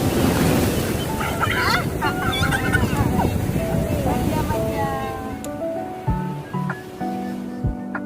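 Ocean waves wash steadily onto Shiroda Beach on the Konkan coast, a broad surf rush that fades toward the end, while people talk nearby.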